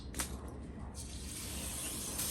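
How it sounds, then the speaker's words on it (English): Plain water poured onto dragon fruit cuttings in soil, a steady broadband splashing and spraying that runs continuously at moderate level, with a brief sharper splash near the start. "So this is just regular plain water"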